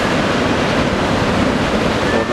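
Ocean surf breaking at a beach in Anglet with a long west-northwest swell and rising tide, a loud continuous roar of waves and wind noise filling the whole clip with no voices.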